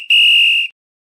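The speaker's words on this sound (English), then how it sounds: "4th down, final whistle." A single sharp, steady referee's whistle blast marks the end of a college football game, loud and close for about half a second before cutting to silence.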